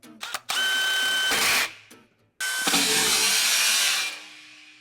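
A drill-powered chainsaw attachment, bought from AliExpress, roars loud and steady while cutting into wood, stopping briefly before starting up again, with no talking.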